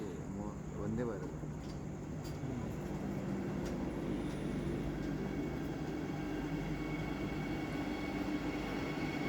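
Matsyagandha Express LHB coaches rolling out of the station on its Mangalore to Mumbai run, a steady, loud rumble of wheels and carriage noise with a squeal early on and a faint tonal whine throughout.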